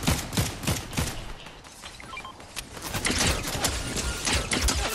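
Video game gunfire in a multiplayer shooter, dense rapid bursts of shots crackling near and loud, easing briefly in the middle before building back into heavy sustained fire.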